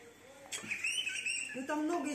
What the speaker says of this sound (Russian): Вот, птица.